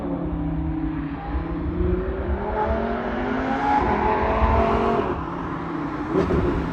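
Audi R8 V10 Plus with a 5.2-litre V10 engine, driving with a steady, loud engine drone that rises in pitch through gear changes, heard from inside the car with no talk.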